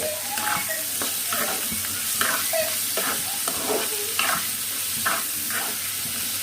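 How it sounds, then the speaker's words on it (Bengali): Chopped onions with a little salt frying in hot oil until light brown for a pangas fish bhuna, a steady close sizzle broken by repeated scraping stirs of a spatula in the pan. "লবণ দিয়ে পেঁয়াজটা হালকা বাদামি করে ভেজে নিব।"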